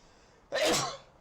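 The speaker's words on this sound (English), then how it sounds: "I need to sneeze." A single sharp sneeze close up, a sudden burst lasting about half a second, alone in a quiet room.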